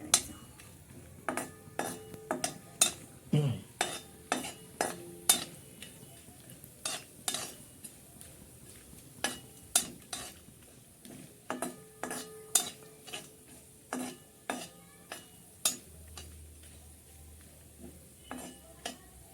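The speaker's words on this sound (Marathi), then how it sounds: "काजू बदाम तेलामध्ये थोडेसे, तेलात नाही तुपामध्ये, तुपामध्ये तूप टाका आणि थोडंसं फ्राय करा" Cashews and almonds fry in ghee while a spoon stirs them, bringing repeated sharp metallic scrapes and clinks against the pan over a soft sizzle, heard alone.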